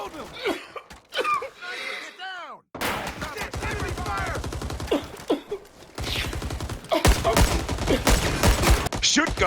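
Dense, loud bursts of rapid gunfire crackle through a Rising Storm 2: Vietnam firefight after a quieter opening, with shouted voices over the shooting.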